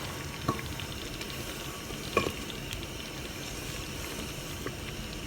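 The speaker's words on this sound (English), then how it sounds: "we're getting up to a nice boil again here" A pot of cranberry sauce bubbles and simmers steadily with soft popping and a couple of sharper splutters, fairly quiet and close.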